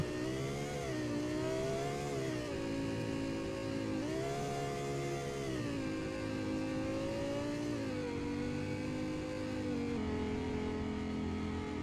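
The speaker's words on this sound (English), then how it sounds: "I could truly make this review just about the sound of this car because it sounds so good." A Lexus LFA sports car engine in a video game revs continuously, its pitch sweeping up and down through several gear changes, loud and close with no other sounds.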